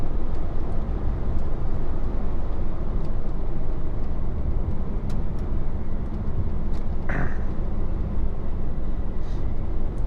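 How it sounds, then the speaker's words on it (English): An HGV truck slows on its engine brake on the approach to traffic lights in Little Wimborne, Dorset, giving a steady, loud, low rumble that runs unbroken from start to end. "So I'll bring her down on the engine brake."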